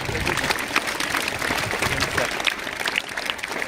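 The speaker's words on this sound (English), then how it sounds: "give a huge round of applause for the camera department" At a school investiture ceremony, a large audience claps steadily for the camera department, a dense, sustained round of applause filling the hall.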